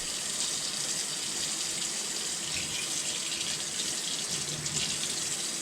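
A tap runs a steady stream of cool water for mixing mustard, a constant close splashing hiss with no talk over it.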